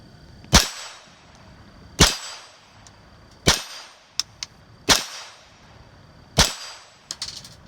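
A Ruger 22/45 pistol fires five subsonic rounds at a steel plate about 10 yards away, each sharp crack followed by a metallic clang, spaced roughly every one and a half seconds, with a couple of faint ticks between.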